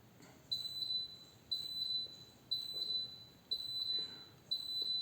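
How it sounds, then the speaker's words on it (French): A dishwasher emits a series of five high, evenly spaced beeps, each lasting about half a second, fairly faint against a quiet room. "Vous entendez le lave-vaisselle,"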